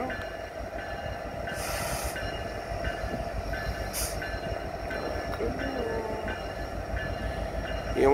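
A Norfolk Southern freight train led by an SD70ACE locomotive rumbles steadily past a station, with brief metallic squeals and clanks over the continuous low rolling drone.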